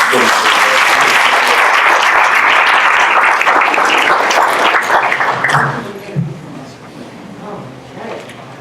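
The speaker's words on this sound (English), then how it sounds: "give them a big round of applause" An audience at a county TRIAD community forum claps loudly for the event sponsors, a dense burst of applause that tapers off after about six seconds into a few remaining claps and murmuring voices.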